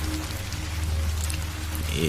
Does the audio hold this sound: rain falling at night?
yes